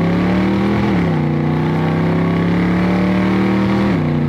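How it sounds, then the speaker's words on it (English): An American car with a 351 Windsor V8 and side pipes revs loudly and close by, a steady deep drone that climbs briefly twice, alone with no talk. "Side pipes tend to be a little bit on the loud side."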